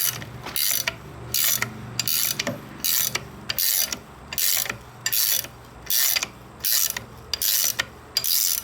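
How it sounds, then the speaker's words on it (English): Loosening a 42RH/A500 transmission pump and clutch assembly gives close, loud, regular ratcheting bursts, each about half a second long, repeating steadily with short gaps between them. "Now I can loosen this and the whole assembly will come up."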